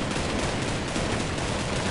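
Dense, continuous gunfire from a Counter-Strike 1.6 deathmatch server with turrets and lasers, a loud, unbroken burst of rapid shots filling the whole moment with no pauses or voices.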